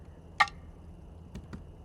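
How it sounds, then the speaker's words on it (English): A single sharp snare crack rings out, followed by two quieter percussive taps, with near silence between. "this is my main, this is my lead snare"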